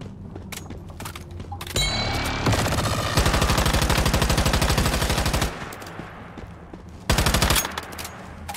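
Gunfire from a weapon in the video game Once Human comes as loud rapid automatic bursts, one long sustained stretch and a shorter later burst, with quieter gaps between.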